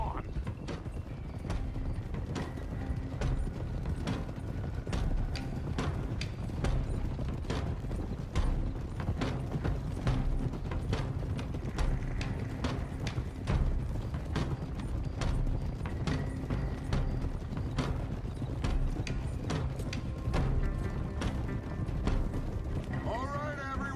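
Horse hooves clip-clop steadily in Red Dead Redemption 2, several horses moving together with faint tack rattle, under a dense game soundtrack and a voice talking.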